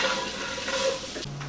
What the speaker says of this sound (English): I'm going to go ahead and add in all of my spices just so I can get them toasted up